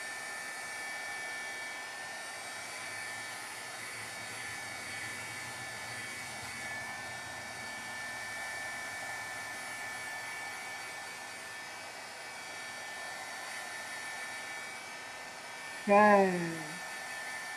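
Hair dryer blowing on wet watercolor cardstock, a steady, even drone running the whole time, with a brief spoken word near the end.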